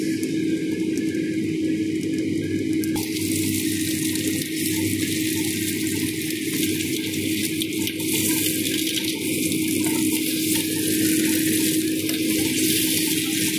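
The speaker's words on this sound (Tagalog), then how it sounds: "I-grill na doon siya, guys, gamit ang butter" Burger steak fries in butter in a pan, giving a steady, close crackling sizzle that stays loud and even from start to finish, with no voices over it.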